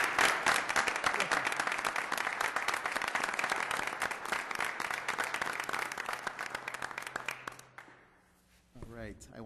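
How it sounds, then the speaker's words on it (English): Applause rings out at a city council meeting welcoming a newly sworn-in alderman of the Fifth Ward, a dense, steady round of clapping that carries for about eight seconds before fading out, with a voice speaking briefly at the end. "Let's give him a round of applause."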